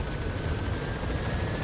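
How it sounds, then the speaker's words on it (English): A helicopter arriving for a pickup in Metal Gear Solid V: The Phantom Pain, its rotor and engine roar loud, steady and close the whole time, with no voices. "Okay, helicopter. Pick up."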